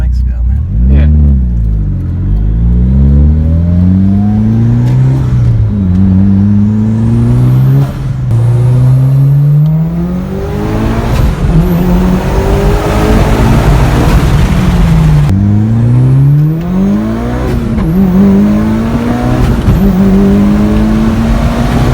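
A turbocharged K20-powered Toyota Celica running on E85 accelerates repeatedly on a test drive, its loud engine climbing through gears with rising whines and shifts, heard from inside with voices talking over it.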